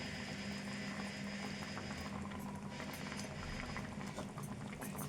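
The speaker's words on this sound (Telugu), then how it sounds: "కలుపుకొని కొద్దిసేపు ఉడికించుకుందాము." Egg soup with coriander simmering in a pot, a steady low bubbling and hiss that carries on evenly and quietly, with no talk over it.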